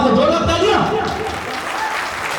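Audience applause after a Bhojpuri film screening, clapping loud under an overlapping voice at first, then settling into a steady wash of hands for the rest.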